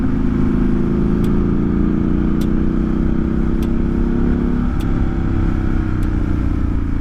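Scrambler motorcycle riding on a dirt road, with a loud steady engine drone, a brief shift in pitch partway, and faint periodic clicks over the continuous rumble.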